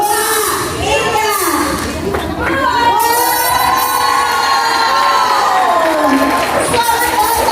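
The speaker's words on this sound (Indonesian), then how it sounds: "aku buka pada tepuk tangan ya" Audience at a youth community event erupting in loud cheering, whoops and children's shouts over continuous crowd noise, close and sustained throughout with no pauses.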